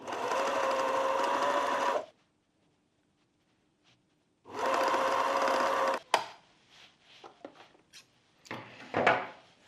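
A sewing machine stitching a hem runs in two steady, loud bursts of about two seconds each with a silent gap between, followed by scattered clicks and fabric-handling clatter up close.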